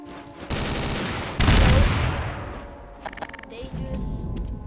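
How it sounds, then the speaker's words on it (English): Rapid admin gun fire in Garry's Mod during a storm-chasing session, a dense loud burst of shots that swells sharply midway, then fades into scattered lighter pops. "this thing is an admin gun"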